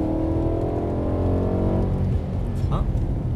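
A BMW E92 M3 with a 420 hp V8 pulls hard on a race track, its engine droning steadily from inside the car before the note drops away.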